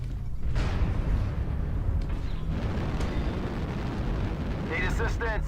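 Airstrike explosions in the MechWarrior Online video game form a continuous loud rumbling roar of blasts and booms, with a few sharp crackles near the end.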